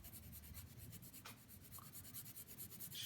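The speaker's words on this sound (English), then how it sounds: "Just using an HB pencil." An HB pencil shades on paper while an eagle is drawn, making soft, steady scratchy strokes that repeat in quick back-and-forth rhythm, quiet and close with no voices.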